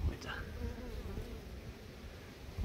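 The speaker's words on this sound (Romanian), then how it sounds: "Da, albinele lucrează, n-au treabă." Honeybees buzz around their beehives, a dense, continuous insect hum heard up close at a moderate level with no talk over it.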